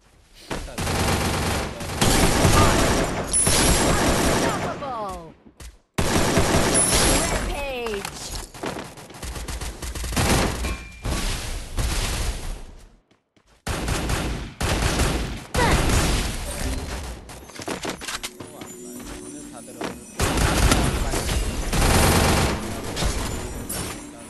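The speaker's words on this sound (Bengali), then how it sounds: "আমি AK-47 দিয়ে যে কয়টা ফায়ার করলাম একটাও কিন্তু মিস হয়নি" Rapid bursts of AK-47 gunfire in a battle royale video game, loud and repeated in long volleys with brief pauses, with players talking over parts of the fighting.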